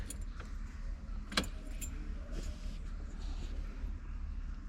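Car keys jingle and click into the ignition of a vintage Porsche 356 with a 6-volt system, a few sharp metallic taps over a steady low rumble.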